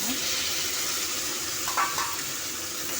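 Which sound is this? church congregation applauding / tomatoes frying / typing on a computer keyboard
tomatoes frying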